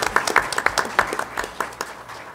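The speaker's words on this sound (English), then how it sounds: "big round of applause." An audience at an Illinois panel on district and school turnaround breaks into a burst of applause, dense overlapping claps sustained at moderate loudness for a couple of seconds, with no talk over it.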